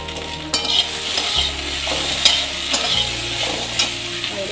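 Okra sizzling in oil in a pan and being stirred, with steady frying crackle under repeated scraping strokes of a utensil, close and fairly loud, no talking.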